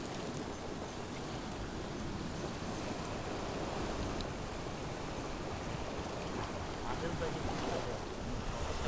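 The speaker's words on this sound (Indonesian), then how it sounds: "Air sudah mulai surut ini, tapi masih bergelombang." Sea waves at the shore of a fishing spot where the tide is going out, a steady rough wash of surf with gusty wind noise on the microphone, continuous and fairly close.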